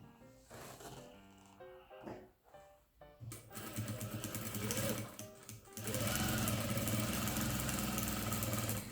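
A sewing machine stitches three layers of chenille cushion fabric with a wider stitch. It starts in short, uneven bursts, then settles into a loud, steady run near the mic for the last few seconds.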